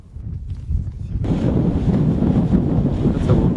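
Strong, steady wind buffets an outdoor microphone on Taratau mountain in Bashkiria, a broad roaring rush that swells after a quieter start and stays loud throughout, with no voices.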